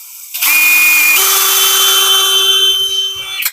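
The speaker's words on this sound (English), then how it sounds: "Hopefully this drill isn't too horribly obnoxious on the camera." Power drill running in a workshop during a custom gauge cluster build, a loud close whine that spins up, shifts pitch once, holds steady for about three seconds, then stops abruptly.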